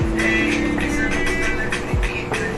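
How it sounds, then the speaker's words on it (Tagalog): A motor tricycle rumbles past outdoors, its engine drone loud and continuous with a couple of sharp revving surges as it goes by, no talking over it. "Padaanin muna natin guys yung tricycle."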